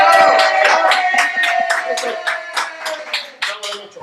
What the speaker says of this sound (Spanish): Aplauda, no sean ojetes.